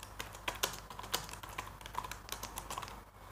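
Rapid, uneven keystrokes clatter on a computer keyboard while editing a spreadsheet in OpenOffice, the clicks close and continuous with brief pauses between bursts and no talking.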